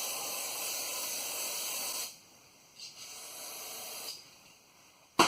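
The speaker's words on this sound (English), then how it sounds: "Let's give her a little spray off." A loud steady hiss from a spray can for about two seconds, followed by a couple of shorter, quieter bursts and a final sharp puff.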